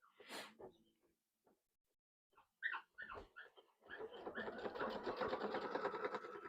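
Domestic sewing machine stitching a quilt, a steady mechanical whirring run that starts partway through and continues to the end, preceded by scattered clicks, a few taps and a dog's snuffling.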